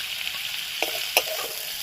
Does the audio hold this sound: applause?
no